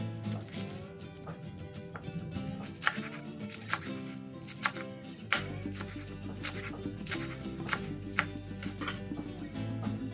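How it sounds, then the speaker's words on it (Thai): Steady knife chopping of coriander and herbs on a cutting board, quick repeated taps with occasional louder strikes, over soft background music. "ผักชีฝรั่งมาหั่นเป็นท่อนสั้นๆ"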